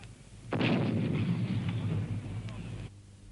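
French 75mm field gun firing in a WWI battle, heard as a loud, close blast that swells into a sustained roaring rumble for over two seconds before cutting off abruptly.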